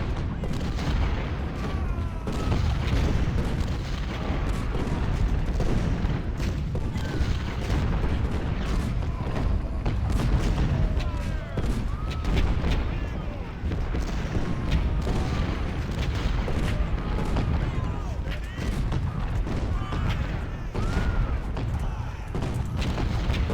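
Artillery fire in the Civil War strategy game Ultimate General: Civil War: a dense, unbroken barrage of booming cannon shots and rumbling volleys that overlap continuously and stay loud throughout.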